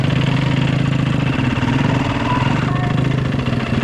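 A dirt bike engine idles after being revved, a steady close-up rumble with a quick, even pulsing throb and no one speaking.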